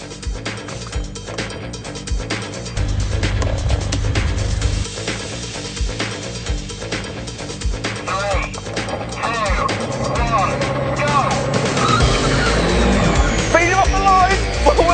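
Two Mercedes-AMG cars, an A45 AMG and a CLS63 AMG, rev loudly at a drag race start line, engines droning steadily and swelling as throttles are held, with talk over the top.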